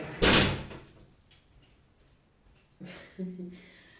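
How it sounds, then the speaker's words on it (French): A door is opened nearby, with a sharp clunk of the latch at the start and then a rustling, sliding scrape a few seconds later, set against low room noise. "je vais ouvrir la porte"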